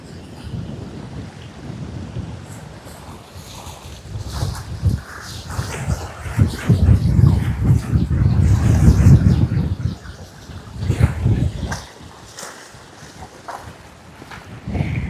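Strong, gusting wind buffets the microphone with a steady roar of sea waves beneath at Allaipiddy village in Jaffna, swelling louder in the middle before easing off.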